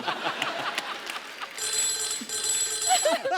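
A telephone rings for an incoming call, its bell trilling in the second half over a noisy, chattering studio crowd.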